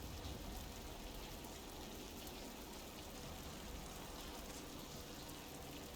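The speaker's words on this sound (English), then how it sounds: "Wow, listen to that rain." Steady rain falls in the video game Dragon Age: The Veilguard, a soft, even hiss that holds unbroken throughout, quiet and alone.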